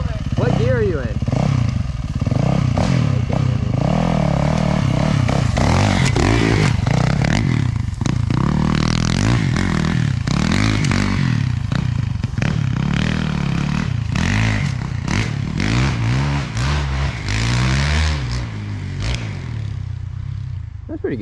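A dirt bike engine on a trail revs and bogs in first gear, loud and close with rising and falling pitch throughout, alongside some clattering and scraping, while riders talk over it.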